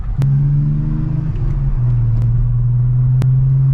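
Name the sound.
BMW 325i E92 engine running at 2500-3000 rpm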